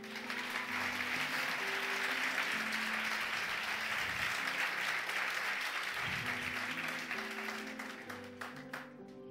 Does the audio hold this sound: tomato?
no